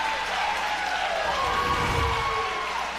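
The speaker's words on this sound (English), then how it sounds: "And the crowd goes wild here." Crowd at a Major League Pickleball championship match roaring and clapping, a steady dense wash of cheers and applause that swells slightly midway and stays loud throughout.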